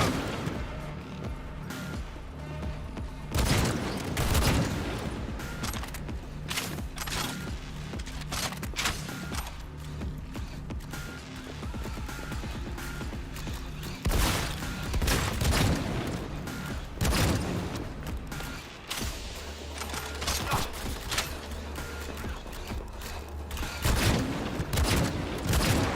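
Loud, continuous gunfire in Cyberpunk 2077: dense bursts and volleys of shots with crashing impacts run almost unbroken, peaking in heavier clusters throughout.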